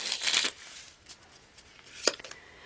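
Tarot cards are shuffled softly at close range, with a brief papery riffle at the start and a sharper snap of cards near the end, quiet and with no talk.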